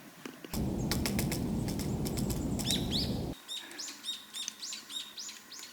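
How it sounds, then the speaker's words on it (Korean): Small birds chirp in a winter forest along a Seoul trail, repeated quick tweets and calls nearby, with a burst of rustling noise early on. "특히 새들이 나무를 쪼고 지저귀고 막 이런 풀숲 같은데 이렇게 콕콕콕콕 파헤치면서"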